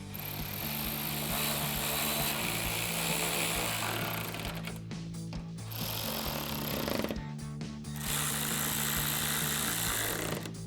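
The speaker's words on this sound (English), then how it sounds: "Now we'll go ahead and tighten them down using our 13 and our 10 millimeter socket." A power driver runs on the headlight bolts of a 2015-2022 Ford Mustang with 13 mm and 10 mm sockets, whirring in two long runs broken by short pauses, close and steady with no voices.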